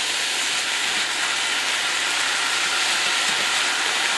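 Ground beef sizzles in a hot pan as it browns for spaghetti sauce, a loud, close, continuous hissing crackle with no pauses.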